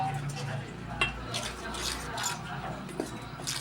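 Spiced chickpea-flour batter for chilli bajji being stirred in a bowl, with a steady scraping and slapping texture and a few sharper clinks of the spoon against the bowl, close and moderately quiet.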